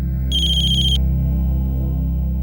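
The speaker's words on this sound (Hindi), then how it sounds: "ताई, बाबा का फोन आया है।" A mobile phone rings with an incoming call, a loud electronic ringtone of sustained tones with a bright high chime in the first second, playing alone without talk.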